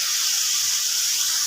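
Okra frying in spice masala gives a steady, loud sizzling hiss that holds evenly from start to finish, with no talking.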